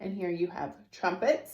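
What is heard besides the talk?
No everyday noises stand out.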